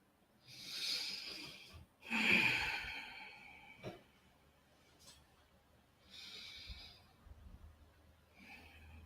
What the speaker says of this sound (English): I'm going to consciously breathe.